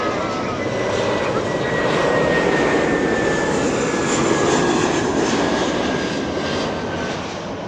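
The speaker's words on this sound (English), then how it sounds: "Delta 995 flying in from Minneapolis." A Delta Airbus A321 jet arriving at Los Angeles International Airport, a loud, sustained engine roar and whine close by that holds steady throughout.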